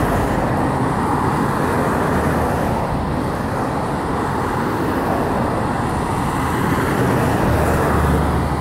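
Road traffic rolls past in a continuous, fairly loud roar of cars and heavier vehicles. The broad rumble stays even throughout, with no gaps.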